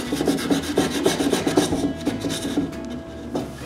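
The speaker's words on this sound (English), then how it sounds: "Then I rub the finish with an abrasive pad." An abrasive pad rubs by hand over the finish on a curved wooden cremation urn, a close, rhythmic rasping scrub of quick, even strokes that slows and fades toward the end.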